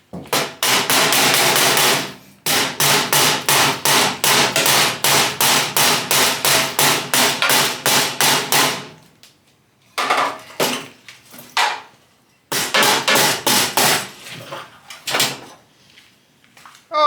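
A body hammer striking the metal core support of a car, loud sharp rapid strikes in long runs, then pauses and a few more bursts of blows, with no talk.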